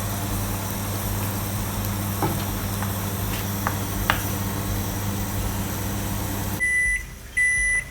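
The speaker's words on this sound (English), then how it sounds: "Now we're gonna take it out from the microwave" A microwave oven hums steadily, then shuts off and gives two short, clear beeps close by. No voices.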